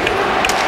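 Hockey arena crowd at an OHL playoff final game, a dense roar of cheering and chanting voices filling the rink in a continuous loud wash.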